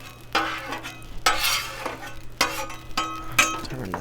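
Crab cakes cook on a Blackstone griddle, a soft sizzle running under repeated scraping and clinking strokes of a metal spatula against the flat top, close and uneven in rhythm.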